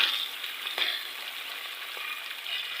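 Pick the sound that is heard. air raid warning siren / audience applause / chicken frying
chicken frying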